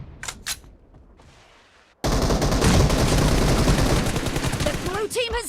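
Rapid automatic gunfire in a video game team deathmatch, a loud dense sustained burst that starts abruptly after a few short single shots and a quieter stretch, with brief game effects near the end.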